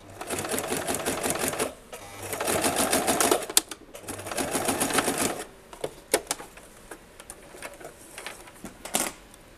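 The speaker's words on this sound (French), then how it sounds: "Je vais venir coudre sur ma couture et faire un point d'arrêt directement dessus" A sewing machine stitches along a seam of a furoshiki cloth and back-tacks over it, in several close, rapid bursts of mechanical chatter separated by pauses, with clicks and handling noise between them.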